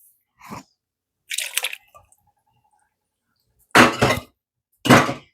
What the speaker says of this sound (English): So I'm just going to put in 2 of these cans here.